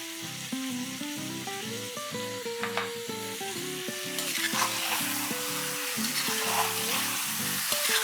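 Ginger paste and finely chopped green chilies sautéing in a pan for Lahori chicken, a hissing sizzle under steady background music that grows louder and brighter halfway through.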